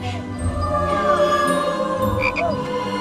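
A steady, loud cartoonish frog croak plays as a sound effect on the Total Wipeout obstacle course, continuous throughout with a brief higher chirp near the end.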